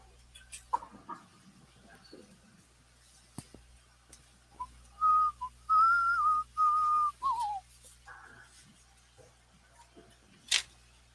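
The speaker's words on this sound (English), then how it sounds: "I just suddenly start whistling and a song is in there somewhere" A person whistles a short melodic phrase of several clear sustained notes in a quiet room, with a few faint clicks and taps around it.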